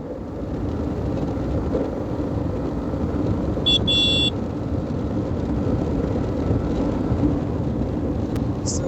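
A Yamaha MT-15 motorcycle riding fast on an open new road, a loud constant roar of engine and wind rushing past, with a brief horn-like toot midway.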